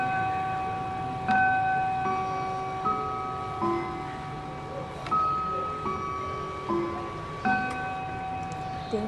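A Howard Miller chiming clock strikes the 45-minute chime, a sequence of clear sustained bell tones ringing out one after another, close and moderately loud, with a faint ticking underneath.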